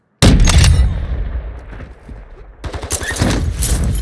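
Shotgun blasts in Call of Duty DMZ, the video game: a loud close burst of booming shots at the start, a decaying tail, then another rapid cluster of reports.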